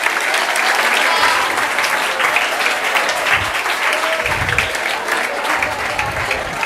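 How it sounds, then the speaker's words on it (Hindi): An audience at a career guidance program claps to welcome a guest, steady dense applause that continues loud and unbroken throughout. "मैं चाहता हूं कि ताड़ी की गड़गड़ाहट से उनका इस्तकबाल किया जाए।"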